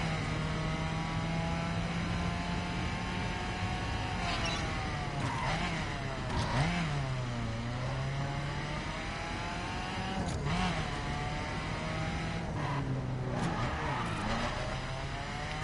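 Subaru BRZ engine in The Crew racing game, a sustained revving drone that sweeps up and down in pitch with gear changes and tire squeals, loud and continuous with no talking.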